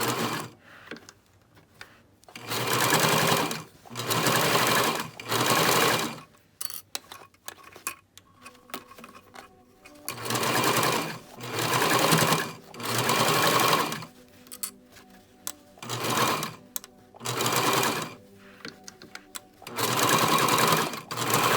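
A sewing machine stitches along the top and bottom edges of a fabric face mask in repeated bursts of close, loud whirring separated by brief pauses and handling sounds.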